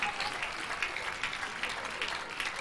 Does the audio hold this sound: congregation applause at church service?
yes